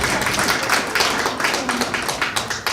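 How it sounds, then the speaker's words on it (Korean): An audience at a Korean social workers' association candidate speech applauds, a dense patter of many hands clapping at once, moderately loud and sustained throughout. "박수 한번 쳐주소"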